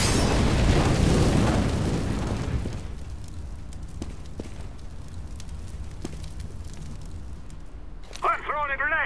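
A fire grenade burns loudly in CS:GO, starting with a dense crackling roar that fades into a steady hiss with scattered small pops. A brief voice-like chirp comes near the end.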